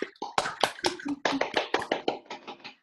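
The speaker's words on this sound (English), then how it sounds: "I like having the sound on for claps" A short burst of hand claps, close and crisp, with a dozen or so sharp slaps at an irregular, lively rhythm before stopping.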